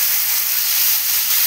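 Chicken marinated in salt, vinegar and ginger garlic paste sizzles in a pan as it is fried, giving a steady, close hiss with no talking.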